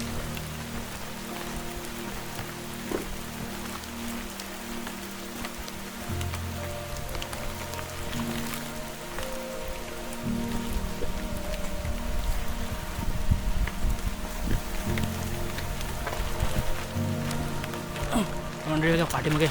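Monsoon rain pours through a forest on a wild ghat trek, a steady dense patter of drops on leaves and ground that swells louder in the second half, with no voices.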